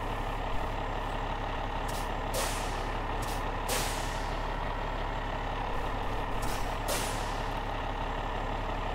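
A truck hauling a trailer in the SnowRunner video game maneuvers with a steady engine rumble, several sharp hissing air-brake bursts and reversing beeps, with no talk.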